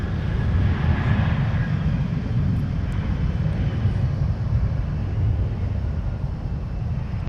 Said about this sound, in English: I just love the Gulfstream G700. That's what this FlexJet charter aircraft is.